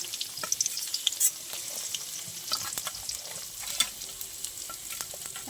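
Garlic and chopped onion frying in a pan for a spinach paneer dish, giving a steady close sizzle with scattered crackles and a few stirring scrapes, with no voices.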